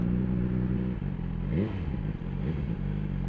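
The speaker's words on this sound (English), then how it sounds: "As soon as you give it a slight twist, the revs rise." BMW S1000R sport motorcycle engine at a steady idle, then a quick throttle twist sends the revs sharply up and back down, followed by a second smaller blip, all close and loud with no talking.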